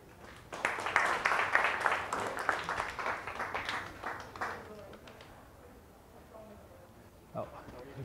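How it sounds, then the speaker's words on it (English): Audience applause at a Kaiser Permanente AD UP conference event, a strong burst of clapping that swells quickly, holds for a few seconds and then tapers off into room noise, followed by a brief knock. "give her a round of applause for Tiff"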